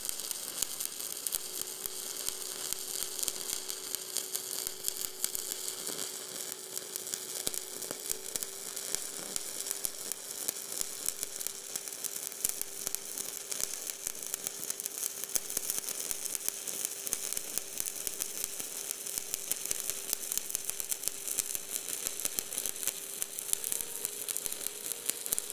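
Stick welding a cap pass on a plate weld test with an eighth-inch 7018 rod at 120 amps: a steady, close crackling sizzle that runs unbroken and even throughout, with a faint electrical hum beneath and no voices.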